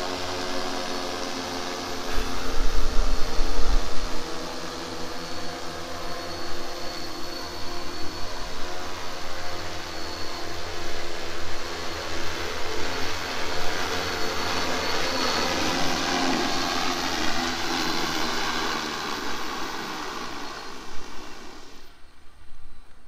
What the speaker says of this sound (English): It's gonna land automatically.